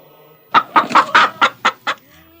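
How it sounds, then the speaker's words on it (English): A hen clucks as a sound effect in a Christmas nativity play: a quick run of about seven clear, close clucks over under two seconds, with no voices. "I can even see the hen too."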